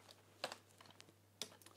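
Keystrokes on a Matchbox on-screen keyboard setup for a Raspberry Pi 4 running DOSBox, a few sparse, quiet clicks with two sharper taps standing out against a faint hum.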